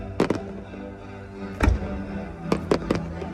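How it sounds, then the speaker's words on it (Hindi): Fireworks burst in the sky above a light and water show on a holiday trip in Vietnam, several sharp booming cracks coming in uneven clusters over a steady crowd-like rumble. "ये देखो ऊपर पटाखे फूट रहे हैं"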